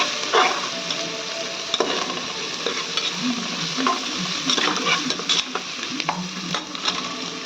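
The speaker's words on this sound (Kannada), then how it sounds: "ಚೆನ್ನಾಗಿ ಫ್ರೈ ಮಾಡ್ಕೋಬೇಕು ಇದನ್ನು" Salted food frying hard in a pan, a dense steady sizzle running throughout with occasional stirring scrapes and clicks, close and loud, and no voices.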